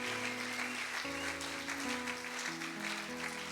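A church congregation clapping and cheering during a service, the steady applause continuing throughout over sustained organ-like music chords.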